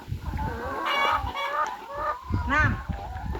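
Hens clucking inside a coop, a close, busy run of overlapping clucks and cackles with a few louder squawking calls, heard alone without speech.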